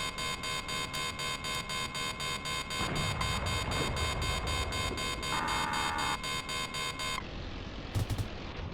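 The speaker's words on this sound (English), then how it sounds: "Missile alert." Missile alert warning in the combat flight game Nuclear Option: rapid, evenly spaced electronic beeps repeating loudly over a steady tonal drone, switching to a different alarm tone toward the end.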